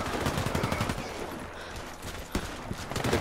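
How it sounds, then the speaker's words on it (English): Imbel IA2 assault rifle fired in the game Warface, a loud, dense rapid string of close gunshots that hammers on steadily through the clip. "this is the Imbel ia2 assault, a slow firing assault rifle that has 145 damage"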